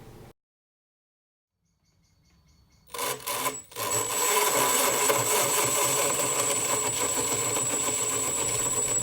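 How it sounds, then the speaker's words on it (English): A combat robot's spinning weapon, belt-driven with a loose tensioner, starts from silence with a few sharp clicks and whirs, then rises into a loud, sustained high whine close by. "here we go, spinning up the weapon for the first time"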